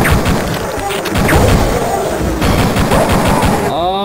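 Rapid chaingun fire from two chain gunner enemies in Duke Nukem 3D, a dense, loud stream of hard bursts and crashing impacts that runs steadily throughout.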